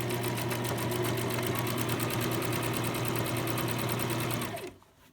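A sewing machine runs loud and steady at high speed, stitching the belly band of a fabric dog coat, with a fast even needle rhythm close by that stops abruptly near the end.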